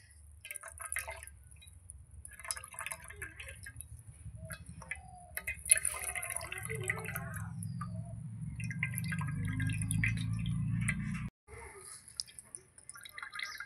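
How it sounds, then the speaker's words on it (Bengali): Freshly made chhena cottage cheese is squeezed by hand, and water drips and trickles from it at close range, growing steadier before a brief break. "সেইভাবে ছানাটাকে আমি চিপড়ে নিচ্ছি।"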